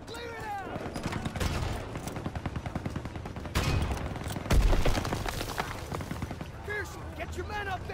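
Call of Duty WWII battle with rapid gunfire, machine-gun bursts and heavy tank cannon booms, dense and continuous, while soldiers shout over the combat.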